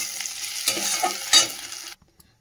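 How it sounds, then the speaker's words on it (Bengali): Prawns frying in hot oil, a steady close sizzle with crackling pops and stirring scrapes, ending abruptly into near silence. "চিংড়ি মাছটা ভেজে তুলে নিই, তারপর তরকারিটা বসাবো"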